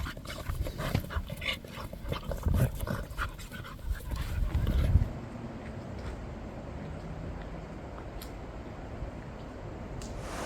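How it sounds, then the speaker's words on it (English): Dogs following trekkers through the remote Albanian mountains pant close by in quick, rhythmic breaths. The panting is loud and busy at first, then drops to a quieter, steady background. "These dogs have been following us and putting on a show."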